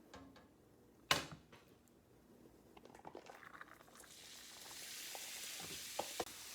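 Peppers, jalapeño peppers and white onion begin frying in a pan, a soft hiss that swells into a steady sizzle over the last few seconds, with a sharp clack near the start and a few light ticks and stirring sounds.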